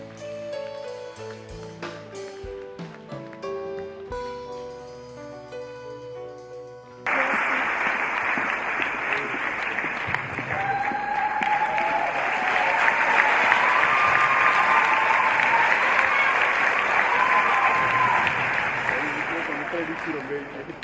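After a musical passage, a large audience at a Valentine's Day event bursts into sustained applause and cheering, a dense roar that swells and holds steady with some voices rising above it.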